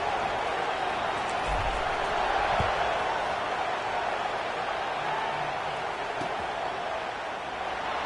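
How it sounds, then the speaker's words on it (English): Football stadium crowd keeps up a steady, loud broadband buzz after a scoring drive, a continuous roar without breaks, with faint thumps beneath. "this crowd is buzzing after that last score"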